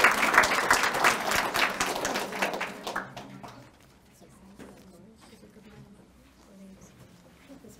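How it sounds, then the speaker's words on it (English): A school art prize audience applauds award recipients, loud dense clapping for about three seconds that then drops away into quiet room murmur and a few stray sounds. "Please give a round of applause for all our year level award recipients."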